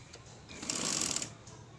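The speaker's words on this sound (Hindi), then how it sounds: "वो रख के उसकी हमने सिलाई करनी है शुरू। और इसको गोल गोल सा घुमा के हमने सी लेना है।" A sewing machine stitches a sleeve seam in a short, steady whirring burst that swells in the middle and then tapers off, fairly quiet and close with no voices.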